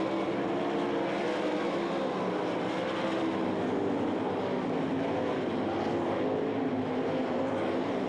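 Sprint cars roar around the dirt oval at the Knoxville Nationals, a continuous, loud wash of engine noise blending several cars at once, steady and unbroken from a distance.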